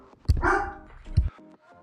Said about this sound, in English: I'm gonna go get him and hopefully stop him from barking.